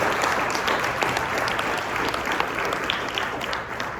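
A dense, sustained round of applause from the audience at a vocations panel, a continuous wash of many clapping hands at steady loudness that eases slightly at the very end.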